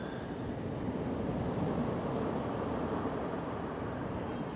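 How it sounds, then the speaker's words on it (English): Ocean waves wash in a continuous, soft roaring hiss with gentle swells, steady in the background of an outdoor yin yoga session, with no voices. "like the waves in the ocean. You probably can hear it in the background."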